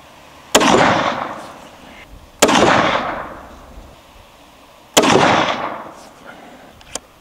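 Three loud, close gunshots from a CVA Scout rifle in .450 Bushmaster during outdoor load testing, each a sharp crack followed by a rolling echo, spaced about two seconds apart, with a faint click at the end.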